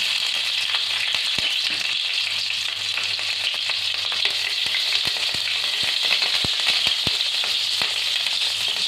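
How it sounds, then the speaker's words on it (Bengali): Chopped green chillies fry in hot oil with cumin and asafoetida, giving a steady bright sizzle broken by scattered sharp pops and crackles, close up and alone. "হালকাভাবে ভেজে নেব আমি, গ্যাসটা কম করে"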